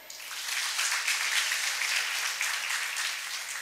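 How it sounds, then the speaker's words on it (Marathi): An audience at a nursing institute induction programme breaks into steady applause, a dense wash of clapping that is moderately loud and lasts throughout, with no talk over it. "या सर्वांसाठी आपण टाळ्या वाजवूयात"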